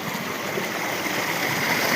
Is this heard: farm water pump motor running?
yes